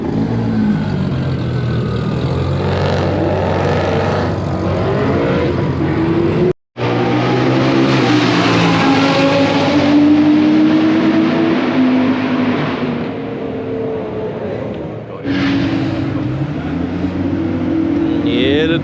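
Nissan R32 GTR circuit car at a roll racing event, engine droning and rising in pitch through gears, a sharp cut partway, then revving again, loud and close with people talking over it.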